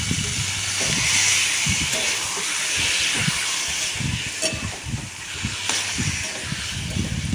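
Marinated chicken sizzles and simmers under a lid in a pan, giving a steady close hiss of steam and frying with faint crackles throughout, no voices.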